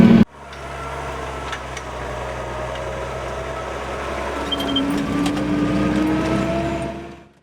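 Satellite-guided tractor driving itself along a straight line across a sown field in Donetsk region, a steady low engine drone that holds evenly throughout, mid-distance with a faint rising whine toward the end.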